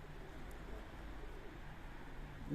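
Pigeons cooing softly near a loft after a 10 km homing flight in Warsaw, a low steady murmur with faint background hum throughout.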